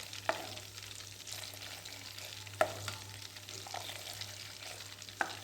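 Country cow's butter simmers down into ghee in a pan, a soft continuous bubbling hiss with a few sharp scrapes of a spoon stirring at intervals, fairly quiet and with no voices.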